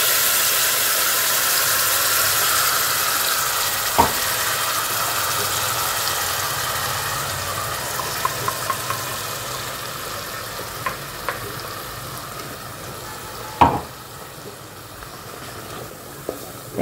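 Cumin seeds and other spices sizzle steadily in hot ghee in a pan over a gas flame, with a few sharp clinks and scrapes of a stirring utensil against the pan.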